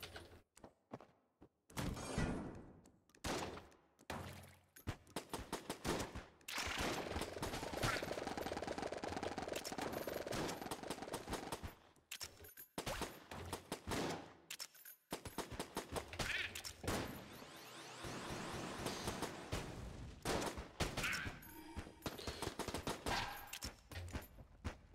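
Gunfire from the video game Enter the Gungeon rattles in loud, rapid bursts with short silent breaks between volleys, the shots packing tightly into long stretches of continuous fire.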